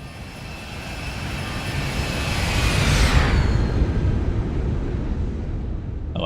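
An aircraft engine sweeps past in the X-Plane 12 flight simulator, swelling to a loud, close roar around the midpoint, then easing into a steady fading drone. No one speaks.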